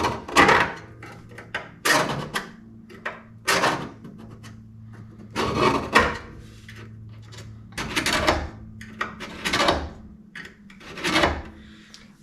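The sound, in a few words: steel scribe scratching a line onto a metal donor panel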